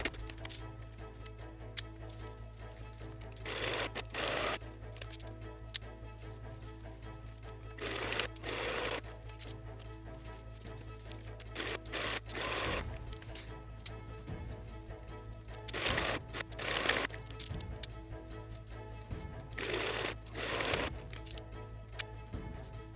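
A sewing machine stitches a plush dog bed in repeated bursts of rapid, close, rattling needle strokes, stopping and restarting over a constant low hum.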